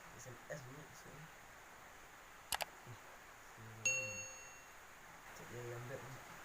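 A single bright ding from a mobile phone's SMS notification sounds once, clear and fairly close, between stretches of casual talk in a comedic home scene.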